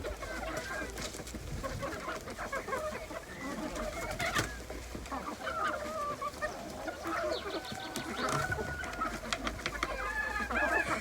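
Domestic hens clucking around a farmyard, several birds giving intermittent clucks and short calls amid a busy, moderately faint outdoor background, with faint voices mixed in.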